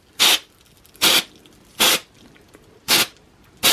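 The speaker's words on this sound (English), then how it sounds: "But let's just spray that in." Five short, sharp aerosol electronics cleaner spray bursts into an MGA M-U2200 stereo amplifier at a regular pace, each a loud hissing blast with quiet pauses between.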